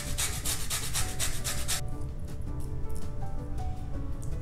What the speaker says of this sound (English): zest my lemon